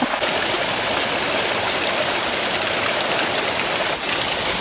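A rushing mountain stream near Meyah Waterfall in Paramin, Trinidad, flows toward the falls, a loud, steady wash of water with no pauses or voices.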